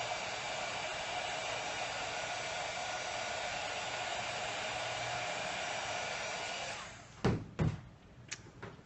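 A hair dryer blows on wet paint on a mixed media craft piece with a steady, close whooshing hum for about seven seconds, then cuts off, followed by a few sharp knocks and handling clatters.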